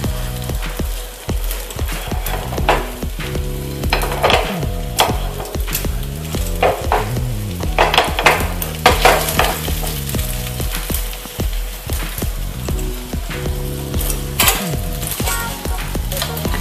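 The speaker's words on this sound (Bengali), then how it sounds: "এবার আমি পরোটাটা আস্তে আস্তে তেলের মধ্যে দিয়ে দিলাম।" A paratha frying in hot oil gives a loud, steady sizzle throughout, with occasional scraping and clinks of a utensil against the pan and no talking.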